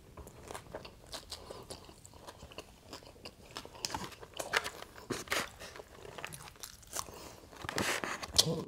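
Crunchy bites and chewing of fried Mexican food such as flautas, tacos and nachos, heard close up as irregular crisp cracks and crackles that get louder toward the end, with no talking.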